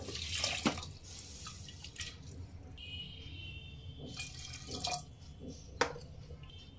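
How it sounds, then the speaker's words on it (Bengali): Water is poured into a pot of moong dal with a katla fish head, giving faint, close splashes and scattered drips over a quiet room hum. "দেড় কাপ জল দিয়ে দিলাম।"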